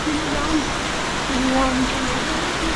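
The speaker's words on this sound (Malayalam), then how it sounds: "മഴ ഇപ്പോൾ അത്യാവശ്യം നല്ല മഴ ഉണ്ട്." Heavy rain pours steadily near a temple pilgrimage site at Baba Dhansar, a dense continuous hiss with no break, while people talk faintly underneath.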